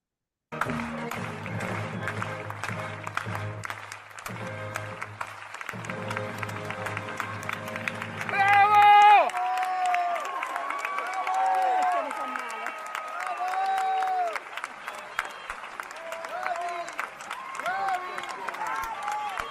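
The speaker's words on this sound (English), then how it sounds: "here you will see examples of vocalizations after an opera performance, and also a bit of clapping while the music is still playing" An opera audience after a performance, with a burst of cheering and shouted bravos followed by scattered clapping and crowd voices while music still plays in the background.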